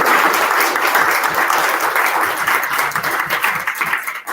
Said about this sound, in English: can we please get one final huge round of applause?